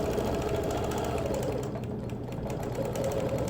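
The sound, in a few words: quilting machine stitching ruler work by hand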